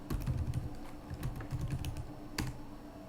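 Someone types a command on a computer keyboard, a quick, close run of key clicks in uneven bursts, with one sharper keystroke near the end.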